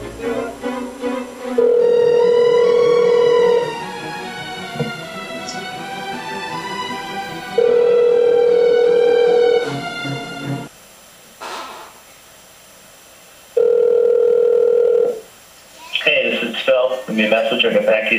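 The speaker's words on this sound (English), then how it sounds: "We're trying Phil again" A phone call rings through to voicemail, with long steady electronic tones, short gaps, and a recorded voice prompt toward the end.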